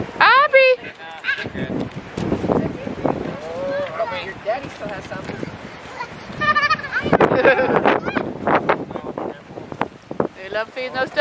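Ducks, including a mallard, honk and quack outdoors in short bursts, mixed with a voice and an adult talking nearby, with some wind buffeting the microphone.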